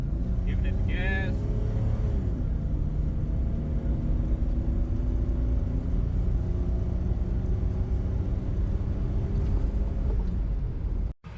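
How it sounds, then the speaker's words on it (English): A 1997 Jeep Cherokee XJ, recently fitted with a 4-port fuel injector setup, accelerates with a loud, continuous engine drone from inside the cabin. The tone rises steadily as it gains speed and cuts off abruptly at the end. "giving it the gas"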